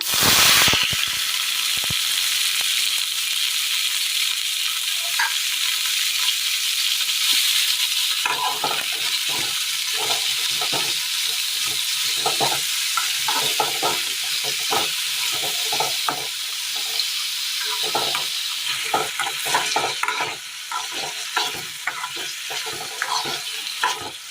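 Chopped snake gourd sautéing in a pan with mustard and fennel seeds, a continuous sizzle broken by repeated scraping and stirring strokes for about twenty seconds, with no talking.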